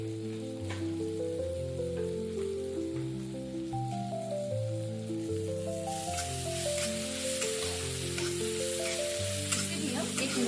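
A masala of onion, tomato, turmeric and red chili powder fries with a continuous soft sizzle, partly buried under louder instrumental music playing throughout.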